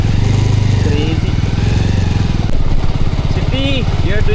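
A motorcycle engine runs steadily close by while riding through a forest area in South Goa, a loud throbbing drone throughout, with people's voices talking over it.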